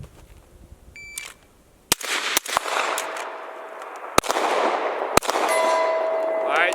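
Rifle and pistol shots ring out at an outdoor shooting range, a handful of sharp, loud cracks at irregular intervals, each followed by a long ringing echo. Faint voices can be heard between shots.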